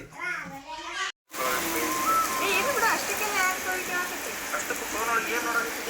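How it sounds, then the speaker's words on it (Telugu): Heavy rain falls in a steady, dense hiss throughout, with a brief dropout near the start. Children talk and play close by over the downpour. "ఫుల్గా వర్షం అనమాట"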